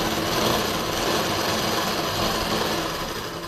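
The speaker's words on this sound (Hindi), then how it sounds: "तो मैं राउंड की सिलाई लगा लेती हूँ" A sewing machine runs steadily while stitching a round seam on a salwar where a chunghat is being added. A close, continuous mechanical whir carries on at even strength throughout, with no voices.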